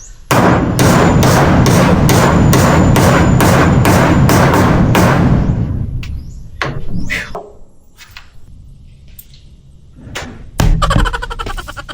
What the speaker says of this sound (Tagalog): Ang sarap ng tunog ng martilyo.